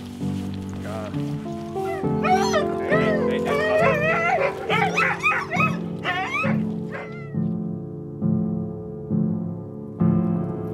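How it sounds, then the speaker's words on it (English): Huskies on a wilderness trek in Norway bark, yip and whine in an excited, overlapping chorus, loud and close, for about ten seconds, with a voice briefly heard beneath the din. "taking some dogs with us"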